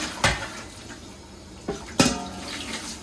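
An oven tray being washed under water: running water with a few sharp knocks and clatters of metal against the sink, close by and fairly quiet.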